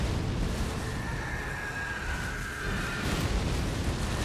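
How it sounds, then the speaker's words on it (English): Several explosions in the video game Elden Ring Nightreign, a continuous loud roar of overlapping blasts and rumbling debris with a thin ringing tone layered through the mix. "Multiple explosions."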